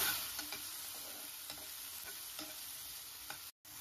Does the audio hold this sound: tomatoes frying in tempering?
yes